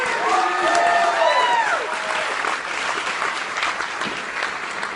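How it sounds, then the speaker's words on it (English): An awards ceremony audience at the Rutgers University Hall of Distinguished Alumni gives a loud, full round of applause with some cheering, holding strong before thinning slightly toward the end; a few whistles or tones ring out early. "How about another round of applause?"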